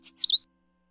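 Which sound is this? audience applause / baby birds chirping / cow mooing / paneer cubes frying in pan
baby birds chirping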